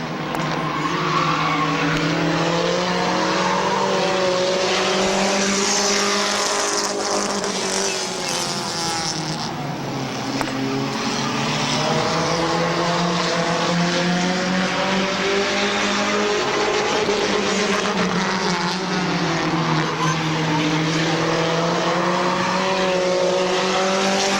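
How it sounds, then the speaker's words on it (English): Race cars roaring around the Midvale Speedway oval in a 2012 short-track race, engines loud and sustained with rising and falling pitch as the pack circles and passes, under continuous announcer-style noise. "White flag, final circuit for the 27 car of Swaney."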